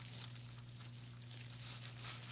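Scissors snipping through decorative wreath mesh, a close, continuous crinkly rustle and tearing texture over a steady low hum, with no talking.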